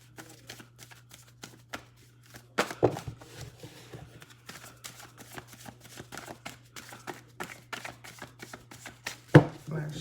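Tarot cards being shuffled in quick riffling bursts, close and fairly quiet, with a couple of sharper snaps and a low steady hum underneath.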